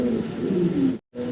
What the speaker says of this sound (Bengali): ভিডিও স্ক্রিনে দর্শক আমরা দেখতেছি ভাইয়ের কাছে এক জোড়া মডার্না কবুতর আছে